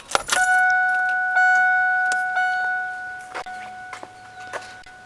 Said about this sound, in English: I'll turn the key on and let the fuel pump start up